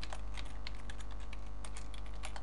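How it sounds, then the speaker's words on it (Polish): Fingers type a name on a computer keyboard in quick, close, irregular key clicks with no voices. "w tym polu wpisujemy swoje imię lub inny tekst, który nas interesuje"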